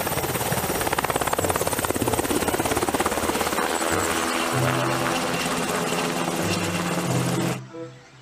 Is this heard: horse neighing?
no